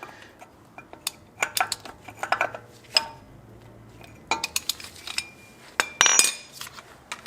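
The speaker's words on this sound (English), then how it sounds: "we're going to tighten up that nut just a little bit" Sharp metallic clinks and taps from a wrench tightening a nut on a Lexus front suspension hub, arriving in irregular clusters, close and fairly crisp, with a quiet workshop background between them.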